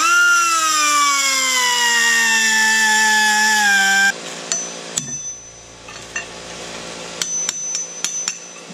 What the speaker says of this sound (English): I'm gonna go ahead and try cutting this a little bit more